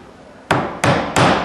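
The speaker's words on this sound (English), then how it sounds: "We'll get these nails started." Hammer driving nails into timber to start them for a butt joint, three sharp, loud strikes spaced about a third of a second apart, each ringing briefly before the next.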